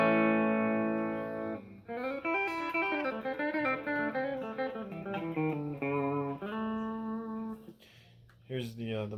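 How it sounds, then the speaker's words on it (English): Schecter Reaper 6FRS electric guitar on the bridge pickup with a clean tone, playing a run of clear sustained notes and chords through an amp, ringing out with a brief pause before a final phrase. "here's what the bridge pickup sounds like clean"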